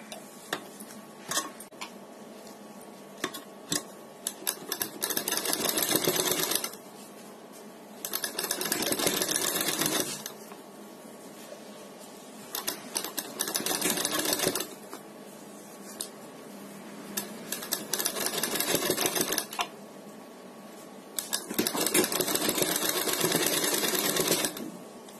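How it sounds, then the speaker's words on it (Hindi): A sewing machine stitches a neck strip onto fabric in repeated running bursts of a few seconds each, separated by short pauses with light clicks and handling noise, close and steady. "और सिलाई लगाएंगे।"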